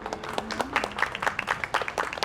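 Audience applause at a talks festival, a short patter of dense clapping with a faint voice mixed in, moderately close.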